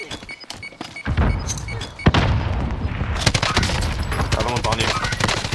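Gunfire in the Warzone video game, rapid bursts and sharp thunks of automatic weapons crackling densely after a brief lull, with players' voices talking over the shooting.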